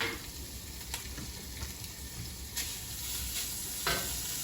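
Bacon beginning to cook in a pan gives a soft, even sizzle with faint crackles and a few brief sharper pops, fairly quiet and close, with no talk over it.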